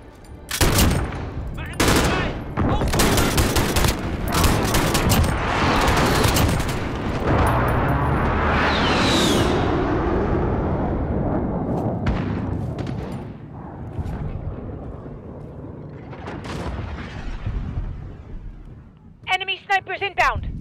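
Video-game gunfire rattles in dense automatic bursts and heavy booms over the first half, then trails off into scattered shots and a final burst, mixed with in-game voices calling out.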